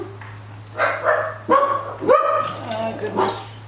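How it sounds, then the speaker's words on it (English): Winston the dog barks and yips in a string of short, close bursts while a person talks over the noise indoors, with a low steady hum underneath. "You're barking, and I ask you not to, Winston."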